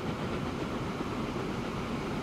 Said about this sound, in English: the train's coming